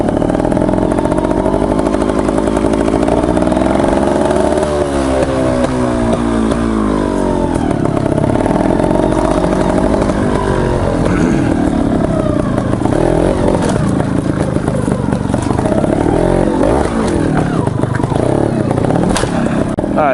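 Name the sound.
motorcycle engine revving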